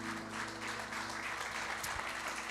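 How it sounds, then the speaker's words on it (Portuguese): A church congregation claps during a Tuesday evening service, a steady wash of applause under a sustained low musical hum, moderately loud and continuous. "Você que pode, aplauda o nome do Senhor nessa noite."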